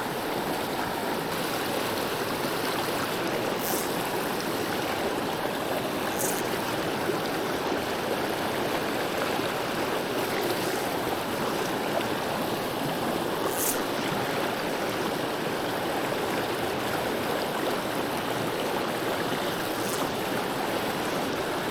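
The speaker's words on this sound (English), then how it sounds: "This water is kind of fast and a little bit broken" Fast, broken stream water in the Great Smoky Mountains, a steady close rushing and burbling wash of current with no talk over it.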